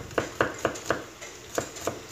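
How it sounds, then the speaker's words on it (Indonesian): A knife finely chops garlic on a cutting board in a home kitchen, about nine sharp, evenly spaced taps in a quick steady rhythm, close and distinct, with no talking. "Kita cincang halus ya"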